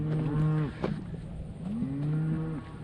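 Cattle bellow in drawn-out moos while a herd of twelve cows, a bull and two calves is moved along a river farm, two long calls standing out loud and close, with a short grunt in between.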